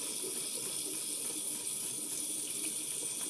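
Warm water runs steadily from a sink tap, a continuous hissing stream for a few seconds, close and fairly loud with no talking.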